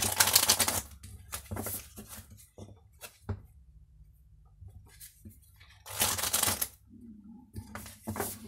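A deck of Love oracle cards is shuffled close by in a few bursts of riffling and flicking, separated by quiet pauses.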